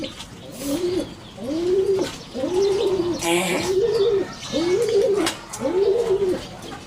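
A pigeon coos nearby in a steady rhythm, about six low, rounded coos repeating roughly once a second, at a pigeon loft.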